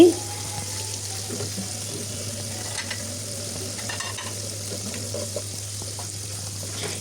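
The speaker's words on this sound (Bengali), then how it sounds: "মাছগুলো ভেজে নিচ্ছি" Chapila river fish frying in hot oil, fried until crisp, give a steady, fairly soft sizzle that runs without a break, with a low hum underneath.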